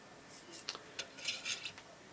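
Small pistol primers in a flip tray for 9mm reloading rattle and clatter as the tray is turned over, a quick burst of light metallic ticking and tapping, close and faint, in short clustered bursts.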